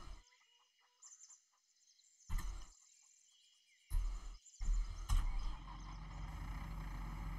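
Farming Simulator 22 chickens cluck in short, scattered bursts amid game ambience, with a few louder thumps and a steady background hum.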